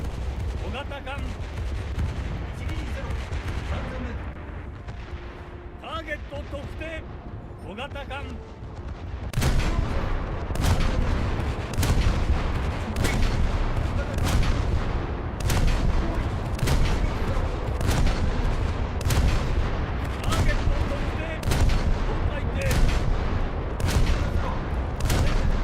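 Ship guns in a naval frigate video game fire in rapid, evenly spaced loud booming bursts, preceded by a quieter stretch of engine rumble and distant gunfire.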